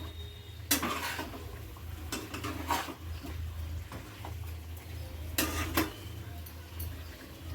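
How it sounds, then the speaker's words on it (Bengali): Chicken with spices and Kashmiri red chilli powder being stirred and sautéed in a pan for a Bengali-style chicken curry, with scattered metal spoon scrapes and knocks against the pan over a low, steady cooking hiss, close and fairly quiet. "এবার এটাকে ভালো করে কষিয়ে নেব।"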